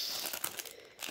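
A resealable plastic envelope crinkles softly in quick, faint rustles that carry on for about a second.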